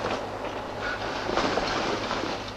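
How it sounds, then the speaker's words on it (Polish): A train runs steadily along the rails in a 1959 film, a dense continuous rumble and hiss with no distinct clatter and no voices, heard close and at moderate level. "Pociąg pędzi w nieznane."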